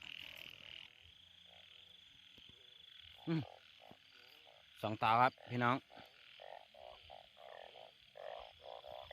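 Many frogs croak in a wet field at night after the year's first rain, a steady chorus of repeated pulsing calls with a few loud croaks close by, while someone talks briefly over it.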